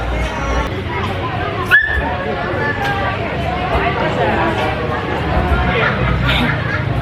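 A startled puppy at a busy spot in Uluwatu, Bali gives a sharp yelp followed by short whimpering yips, half buried under crowd chatter and nearby people talking.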